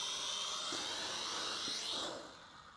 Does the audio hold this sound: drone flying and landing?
yes